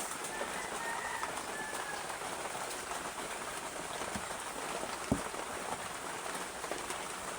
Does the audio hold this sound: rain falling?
yes